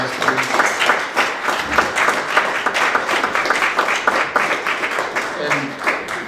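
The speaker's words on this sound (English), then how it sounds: "So we can give them a round of applause, please." Audience applause at a political rally: dense, steady clapping from a crowd indoors, continuing for several seconds with voices mixed in.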